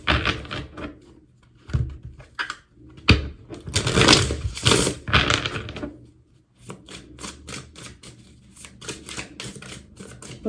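A tarot deck is shuffled by hand at close range in rapid bursts of riffling and flicking cards, broken by short pauses, with no talk.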